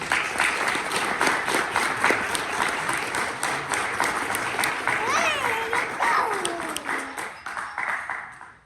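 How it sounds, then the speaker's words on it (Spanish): Steady audience applause welcomes literary and cultural guests at a book presentation, filling the room for most of the stretch before tapering off at the end, with a voice and a few whistles rising briefly above the clapping. "Los recibimos con sentidos aplausos por ser destacadas personalidades de la literatura y también de la cultura."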